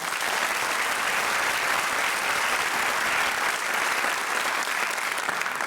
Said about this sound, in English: Let's give our pre-show performers a round of applause.